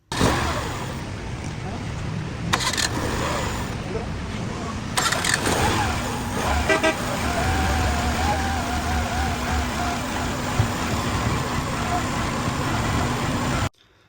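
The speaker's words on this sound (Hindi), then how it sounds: "तो फाइनली इस मैकेनिक ने मेरी गाड़ी के आरपीएम को ठीक कर दिया" A car engine runs at a steady idle after a mechanic has adjusted its RPM and mixture, giving a continuous close rumbling drone with a few brief clunks, while voices talk over it.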